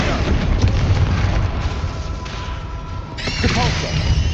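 A blasting spell explodes in the Hogwarts Legacy video game with a booming, crashing burst. The loud, dense rumble fills the scene continuously, and a bright crackling surge rises near the end.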